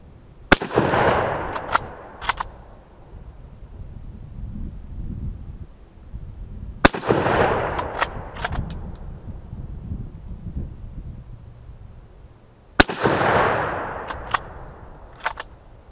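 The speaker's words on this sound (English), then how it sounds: "It's always nice when you shoot something and it smokes like that" Three sharp gunshots ring out several seconds apart as a rifle is fired at a motor outdoors, each crack followed by a long rolling echo and faint wind between shots.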